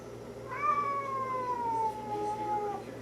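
A single drawn-out cat meow, rising then slowly falling, fairly close over a quiet background hum.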